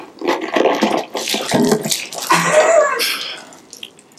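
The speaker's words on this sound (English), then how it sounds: "So we've cleaned up after our little water explosion." Water bursts and splashes out of a bottle as a balloon pops during an air pressure experiment, a messy burst of splashing and dripping over about four seconds with no talk.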